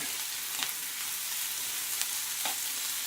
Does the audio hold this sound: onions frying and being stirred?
yes